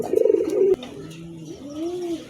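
An adult male pigeon coos nearby, a soft throaty rolling call followed by a lower, drawn-out coo, with no talking.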